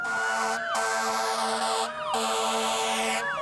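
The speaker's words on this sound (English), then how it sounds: "That's the sound of police cars escorting Botsford fire trucks from the Honan Funeral Home in Newtown." Loud sirens wailing continuously up close, with steady tones rising and falling in repeated cycles, from police cars escorting fire trucks from a funeral home in Newtown, Connecticut.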